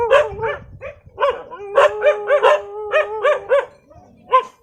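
Several dogs bark repeatedly in quick, overlapping volleys, loud and near, in a remote forest-ringed tribal village in Thiryani, Kumram Bheem district, with a brief lull before one last bark.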